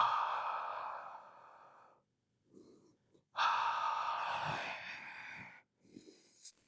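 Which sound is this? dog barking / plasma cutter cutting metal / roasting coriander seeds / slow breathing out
slow breathing out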